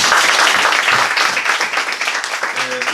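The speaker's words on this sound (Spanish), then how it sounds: "Un fuerte aplauso para Carlos Germán Belli." Dense audience applause for poet Carlos Germán Belli at a book launch for his poetry collection, steady clapping filling the room with some voices mixed in, fading slightly toward the end.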